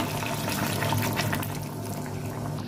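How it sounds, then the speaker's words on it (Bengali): Water is poured into a pan of vegetable shukto curry, producing a steady, close splashing and bubbling wash that lasts the whole short moment. "ভালো করে কষে নিয়েছি, এবার আমি জল দিয়ে দেবো।"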